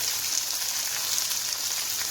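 Steady bright sizzling of tomatoes and onions frying in a hot pan, continuous and fairly loud with no talking.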